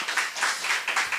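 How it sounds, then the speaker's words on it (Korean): A church congregation claps at a tenth-anniversary revival service, steady applause with rhythmic swells throughout, moderately loud and with no voices over it. "우리 박수 한번 다시 한번 부탁드리겠습니다."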